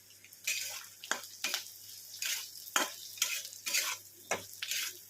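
Crushed peanuts stirred into a sizzling pan mixture for kanda poha, with repeated scraping strokes of a spoon against the pan over a steady frying hiss, close and fairly quiet.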